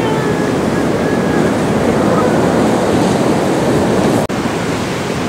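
Loud, steady wash of ocean surf at a surfing spot, mixed with wind rumbling on the microphone and a sudden brief dropout near the end.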